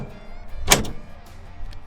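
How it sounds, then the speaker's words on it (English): The steel hood of a 1950 Ford F1 truck drops shut, one short sharp slam close by, followed by quiet. "and then the hood comes down."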